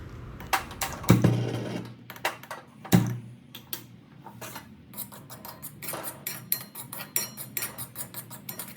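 Cardamom is stirred into roasted semolina in a pan for sheera, a prasad offering, with irregular metallic clinks and scrapes of a spoon against the pan, close and uneven, with two heavier knocks early on.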